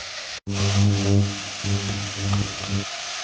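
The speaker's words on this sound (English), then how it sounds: "I'm just going to sweat this down for a little bit" Vegetables for minestrone soup sweat in a pan, giving a steady close sizzle and hiss with a low humming undertone, a brief dropout near the start, then continuous frying without speech.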